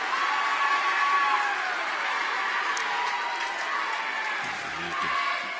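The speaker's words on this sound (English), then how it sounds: "You can hear the crowd in it already." Crowd noise fills a high school state volleyball match gym, with a steady roar of voices and cheering throughout and no single standout burst.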